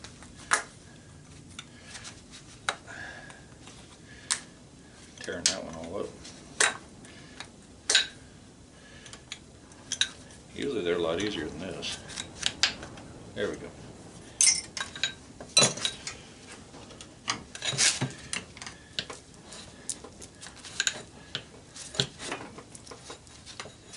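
Pliers twist and pry at a motor's oil fill cap during scrapping of a copper motor, giving scattered sharp metallic clicks and ticks with a few brief scraping bursts, close and irregular in a quiet room.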